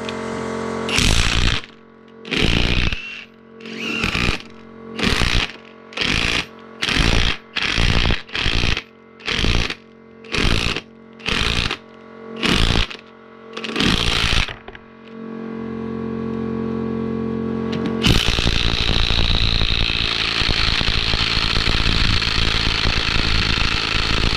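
A cordless AEG impact wrench tightens a bolt fully in a burst of loud, close hammering pulses that stop and restart about a dozen times, followed by a long whir and then a louder steady mechanical roar.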